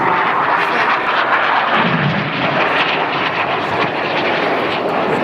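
Red Arrows jet aircraft fly past at the Sunderland Airshow, a loud, steady engine roar filling the air without letting up, with a faint announcer voice under it.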